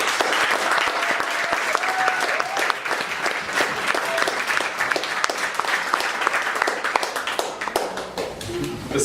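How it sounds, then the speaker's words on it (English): Audience applause for summer camp campers at a speech event, a dense, steady round of clapping from a large crowd that holds for the whole stretch, close and loud, with faint voices mixed in. "round of applause for all the campers"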